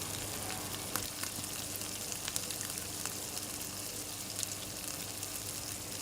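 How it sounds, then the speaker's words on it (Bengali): Chunks of taro (kachur mukhi) sizzle and fry steadily in a hot pan, a dense, even crackle with occasional small pops and no voices. "দেখুন কীরকমভাবে আস্তে আস্তে কষিয়ে নিয়েছি এবং দেখে নিচ্ছি যে কচুটা কীরকম সেদ্ধ হয়েছে"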